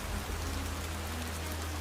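Rain pours down in a windswept storm, a steady, dense hiss that stays even and close throughout, with a low rumble running underneath.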